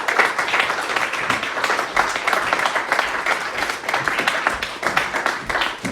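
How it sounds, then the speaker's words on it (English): An audience at an evening comedy show breaks into loud, dense applause, continuous clapping swelling and dipping slightly across the whole stretch. "give yourselves a round of applause for coming out tonight."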